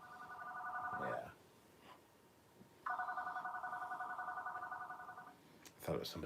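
A computer screensaver plays an electronic phone-like ringtone that chirps in two long bursts separated by a pause, with brief talking before and after the ringing.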